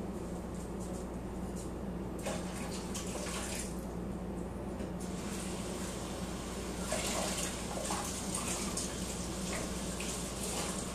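Vinegar poured off a shell-less egg in a lab container, a steady splashing, trickling stream of liquid heard close and continuous, swelling a little louder partway through, with no talk.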